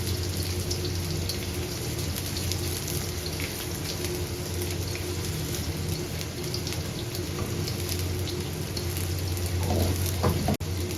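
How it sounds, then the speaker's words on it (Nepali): Nepali sukuti, pieces of dried goat meat, frying in hot oil with a steady, even sizzle and crackle that holds throughout, with a few faint clinks near the end. "अब मैले यसमा तेलमा यो सुकुटी हाल्नेछु, मासुको पिसलाई एकछिन फ्राई गर्नेछु।"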